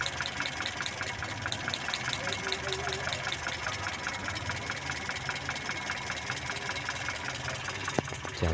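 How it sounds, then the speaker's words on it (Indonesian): Mitsubishi Colt T120 engine idling close by, a steady even mechanical chatter with regular ticking that runs unbroken for the whole stretch, without talk. "Jadi setel Delco harus mesinnya harus nyala normal dulu teman-teman."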